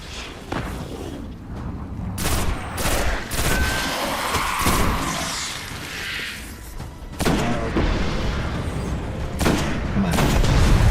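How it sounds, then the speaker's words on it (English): Gunfire in the video game Destiny 1 while shooting Fallen enemies, repeated sharp loud bursts and booms in irregular clusters over a busy background of game effects, with a voice talking at times between shots. "I'm gonna shoot some Fallen some more"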